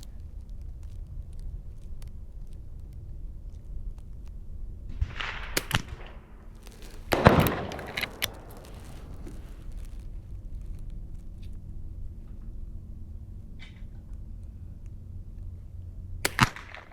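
Marlin 39A rifle fired outdoors, a few sharp cracks standing out from a quiet background, the loudest near the middle and another close to the end, with long pauses between shots.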